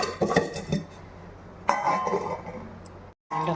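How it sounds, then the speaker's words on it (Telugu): A lid goes onto a pot of simmering chicken curry with a few sharp metallic clinks and clatters, close and fairly quiet, separated by short pauses and a brief silent gap. "దాని మీద మూత పెట్టేసుకొని ఉడకనిద్దాము బాగా."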